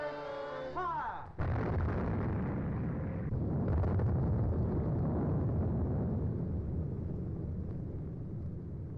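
An experimental explosive shell fired in a 1943 Royal Ordnance Factory test bursts with a sudden heavy boom, followed by a long loud roaring rumble that slowly settles.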